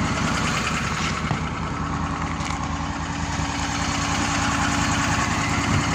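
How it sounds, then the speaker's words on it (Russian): A snowmobile engine drones steadily and loudly as it drives along a forest road in a park, a constant close-up roar with no speech. "Сейчас объезжаю на снегоходе."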